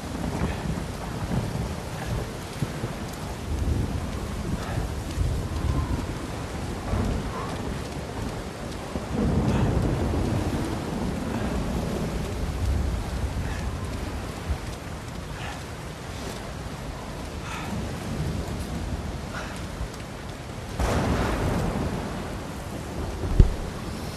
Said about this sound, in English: Visibility is pretty low with this storm, with this downpour.